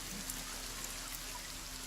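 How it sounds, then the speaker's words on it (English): Steady rain falls in the VR survival game The Forest, a continuous soft patter of drops with a faint low hum underneath and no talking. "I know that the rain will fuck up my fire a little bit."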